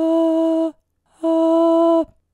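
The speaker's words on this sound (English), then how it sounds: "falsetto sounds like this" A man sings two sustained falsetto notes, each held about three-quarters of a second with a clear, steady pitch and a short pause between them, close and alone with no talking.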